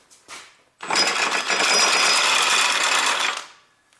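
A rapid mechanical rattle, like a ratchet or power tool loosening bolts on a Honda Civic 1.8 R18A1 drive shaft, runs continuously for about three seconds, preceded by a couple of brief clicks.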